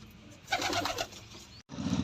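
Domestic pigeons coo in short soft bursts close by, with a brief gap of silence before a lower cooing resumes.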